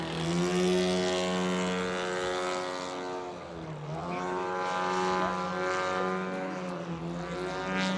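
A Fokker DR1 model aircraft flies at a model aircraft display event, its engine giving a loud, sustained buzzing drone that dips and rises in pitch as it climbs and passes, with no talking.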